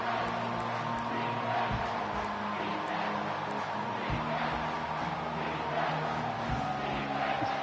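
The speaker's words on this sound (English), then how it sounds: "Here comes this home crowd as the defense tries to get off the field on 3rd down" Home crowd roaring in a college football video game as the defense faces third down, a steady, loud stadium wash of cheering with no breaks.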